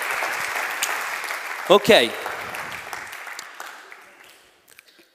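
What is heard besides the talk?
audience applause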